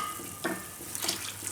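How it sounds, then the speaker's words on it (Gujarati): Water is added to a pot of Tibetan thukpa soup with vegetables, faint close splashes and trickles in a few short bursts over a quiet kitchen background. "આમાં આપણે હજી પાણી નાખીશું"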